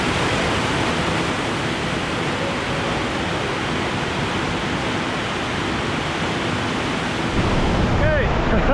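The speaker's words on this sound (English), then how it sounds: "Made it to the waterfall." A powerful waterfall in the Pyrenees roars steadily, a dense, unbroken rush of falling water close by, with a faint voice briefly rising near the end.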